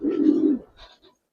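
A Giribaz pigeon gives one close, throaty coo lasting about half a second, followed by two fainter, shorter murmurs before silence.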